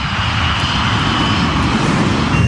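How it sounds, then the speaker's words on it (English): Airliner engines roar at full power as the heavy jet, Avianca Flight 52, pulls up into a missed approach; a loud, continuous broadband rumble with a steady whine holds throughout, with no talk. "The operation of pulling the plane up in the missed approach was a very violent one."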